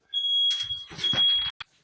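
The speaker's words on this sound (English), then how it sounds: "the smoke detector went off" Smoke detector going off with a shrill, steady high-pitched tone, broken by a brief gap and a short final chirp, loud and close.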